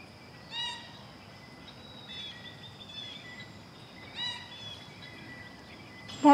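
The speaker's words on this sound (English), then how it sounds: "I heard that sound, I thought it was a goose. It's not, it's that cute little deer." A baby deer calling for its mother outdoors near a garden, several short, high, nasal bleats with faint background insect hum.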